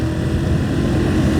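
A motorcycle engine holds a steady, loud, low drone while the rider upshifts to a higher gear, with a throbbing, uniform rumble throughout.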